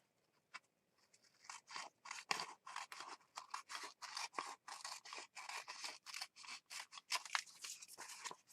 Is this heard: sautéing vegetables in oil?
no